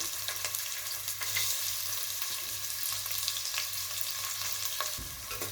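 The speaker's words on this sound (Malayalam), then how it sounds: "ഇനി എണ്ണ നല്ല ചൂടാക്കി കഴിയുമ്പോൾ ഇതിലോട്ട് ഒരു സവാള അരിഞ്ഞത് ഫ്രൈ ചെയ്തെടുക്കാം." Sliced onion fries in hot oil for egg biryani, a steady close sizzle with occasional stirring clicks and scrapes throughout, and no speech.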